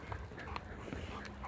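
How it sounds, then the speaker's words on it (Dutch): Black Patterdale terrier dogs whimper and whine softly in short, faint bursts, with no talking over them. "Allemaal zwarte hondjes bij elkaar."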